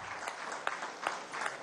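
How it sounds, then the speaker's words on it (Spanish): A short burst of scattered applause for secretariat members at a Venezuelan government meeting with governors, a few separate claps in a room, fairly close and moderately loud. "Vamos a darle un aplauso a los integrantes de esa secretaría"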